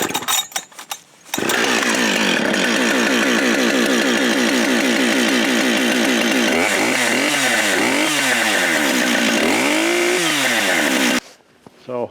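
A chainsaw fitted with an aggressive Husqvarna X-Cut chain snarls loudly through wood at steady high revs, the pitch bogging and rising as it bites, with brief idling before and after the cut.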